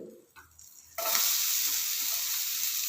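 Sliced onions with ginger and garlic sizzle loudly in a hot pan, the frying hiss bursting in suddenly after a quiet second and holding steady throughout.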